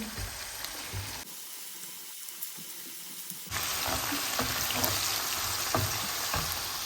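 Chopped onions fry and sizzle steadily in a pan while being stirred until brown for a raw turmeric gravy, a continuous close crackle that briefly drops away then returns louder with small scraping stirs.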